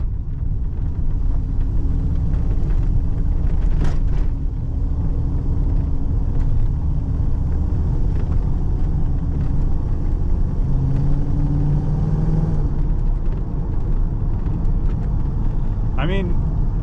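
Pontiac Grand Prix with a transmission problem driving slowly in a lower gear, its engine giving a loud, steady low rumble from inside the cabin, with a brief whine near the end and people talking faintly over it.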